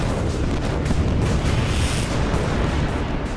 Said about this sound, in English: More and more Austrian cannon are pulled up and begin to pulverize the French line.